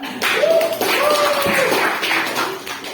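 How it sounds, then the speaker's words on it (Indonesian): Students in a school physics class clap their hands after a group presentation on the Lorentz force, a busy patter of claps running through the whole stretch with voices mixed in. "jadi tepuk tangan"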